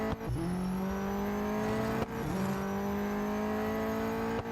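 A race car in Real Racing 3 holds a loud, sustained high engine whine with tire noise, briefly dipping and shifting gear twice before climbing again, with no talk.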